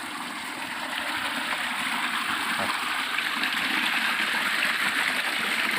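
Water rushes and splashes continuously, like a waterfall or fast stream, a steady close hiss with no breaks.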